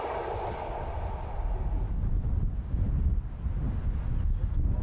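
Gusty autumn wind roars and buffets the microphone in a low, continuous rumble that swells and eases, near and loud, along a railway line with great viaducts; no talk.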